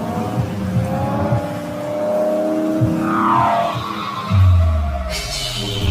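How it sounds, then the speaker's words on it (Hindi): A real-life replica of the Lightning McQueen race car revs its engine loudly and close by, with rising and falling sweeps of engine pitch and a sharp final burst of acceleration. "इसकी इंजन की आवाज से भी लग रहा है कि ये कार बहुत फास्ट होगी"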